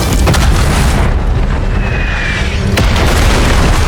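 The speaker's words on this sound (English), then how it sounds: "They would only fire the cannon when the zombies reached the castle gate," A cannon blast from a zombie TV drama set in Paris lands as a loud, dense rumbling boom, with sharp cracks and debris noise close up.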